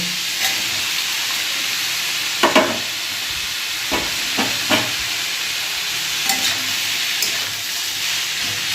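Onions frying in a pan while a chichinga (snake gourd) dish cooks, giving a steady sizzling hiss with a few sharper stirring clatters scattered through, close and alone.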